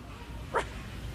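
A dog gives one short, sharp bark in a film, a single brief yelp standing out over quiet room tone with no talk.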